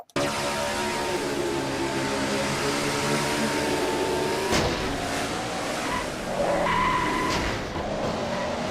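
A race car in a sim racing game on the NRSL Mello Yello Series race at Food City 250 nearly spins out. A loud, steady engine drone runs throughout while tires squeal and the revs shift sharply midway.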